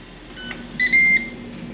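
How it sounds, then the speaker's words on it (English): Control panel of an air fryer being switched on and set, with a few short electronic beeps followed by one longer steady tone over a low fan hum, close and alone. "we're gonna cut our air fryer on, set it to put it on 15 and put this on 390"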